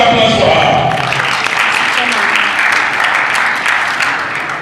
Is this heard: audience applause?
yes